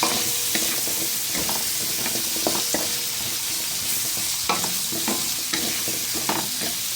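Boneless milkfish sautéed with carrots and potatoes in a home kitchen pan sizzles steadily, with a spatula scraping and stirring in irregular knocks throughout, close and moderately loud, no speech.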